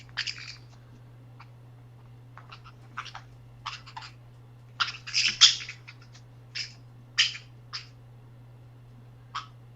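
A bird chirps and squawks indoors in scattered bursts, some short single peeps and a few louder clustered calls, over a constant low electrical hum.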